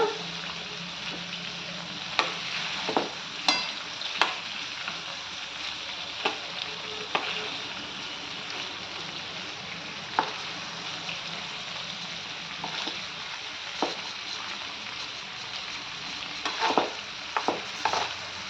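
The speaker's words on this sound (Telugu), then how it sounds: "ముక్క వేగాలి నూనెలో బాగా" Stuffed eggplant pieces frying in oil, a steady sizzle broken by repeated scraping and stirring clinks of a spatula in the pan, close and clear, no talk.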